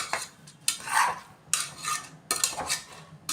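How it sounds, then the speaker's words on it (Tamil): A metal spoon stirs vegetable biryani with salt in a pot, making close clattering scrapes in three bursts with short quiet gaps and no talking. "இது மாதிரி நல்லா கிளறி விட்டுக்கோங்க."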